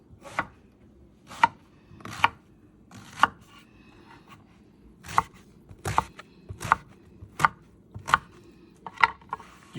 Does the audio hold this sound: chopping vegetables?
yes